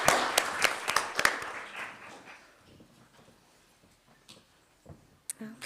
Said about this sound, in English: Another round of applause for all of our schools.